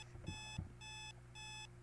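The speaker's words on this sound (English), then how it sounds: "hopefully to stop that beeping" A rapid electronic beeping alarm in the video game Sally Face sounds in repeated bursts, steady and insistent, with a couple of soft thumps beneath it.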